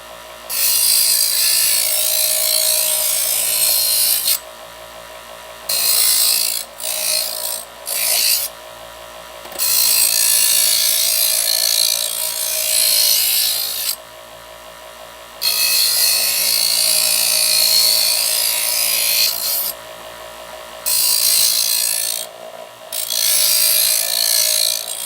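Repeated harsh grinding passes as a knife blade is drawn through a Chef's Choice electric sharpener, each lasting a few seconds, separated by brief quieter pauses with a motor hum.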